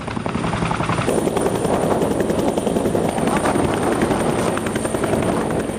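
A helicopter carrying commandos during a hostage-rescue drill, its rotor thumping steadily and loudly throughout, a close, continuous beating drone with a high engine whine above it.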